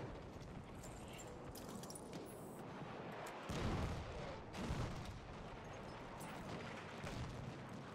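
Mortar and artillery fire in the Battlefield 1 video game, a dense rumbling battlefield din with heavy booms swelling around the middle of the stretch and continuous distant gunfire behind.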